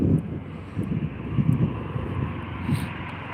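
A police helicopter flies overhead in North Sacramento, California, its rumbling engine and rotor throbbing in soft repeated pulses under outdoor wind noise, moderately distant and steady.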